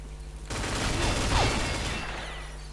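A sustained burst of rapid automatic gunfire from the Orthus weapon in the game Combat Arms, dense and continuous for about a second and a half before trailing off, with a synthetic, game-like tone.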